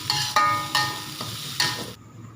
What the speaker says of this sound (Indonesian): Dan setelah itu kita aduk-aduk lagi ya teman-teman, sampai ini semuanya tercampur rata.